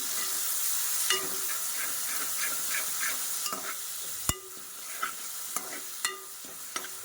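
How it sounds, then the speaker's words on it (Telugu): Tomato is stirred into fried onions in a pan for a small-fish curry, a close sizzle punctuated by repeated scraping and clinking of the spoon against the pan, with no talking. "టొమాటో వేసేసుకుని బాగా మిక్స్ చేసుకుందామండి"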